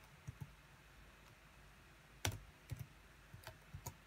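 A command typed on a computer keyboard at a grub rescue prompt: sparse, quiet clicks in small clusters, a pair early on, then a sharper double keystroke and a few scattered taps, close and alone in a quiet room.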